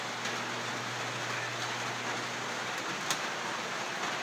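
Steady rain falls outdoors as an even, dense hiss, with a few faint drop ticks and a low hum beneath it.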